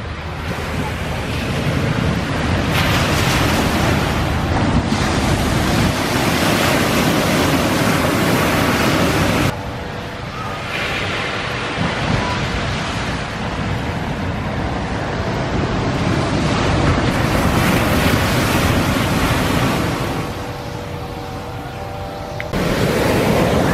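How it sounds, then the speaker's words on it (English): Big ocean waves breaking at Laguna Beach, a continuous loud roar of surf with heavy wind buffeting the microphone, the wash swelling and easing in long surges. "Big waves coming in."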